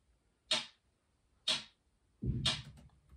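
A programmed hi-hat run through a flanger: three sparse, crisp hits about a second apart, each with a short swirling metallic tail, the last one over a low thump, dry and isolated with no voices.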